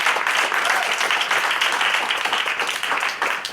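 An audience at a poetry slam claps and applauds steadily for several seconds after the judges' scores are read, a dense even patter with no talk over it.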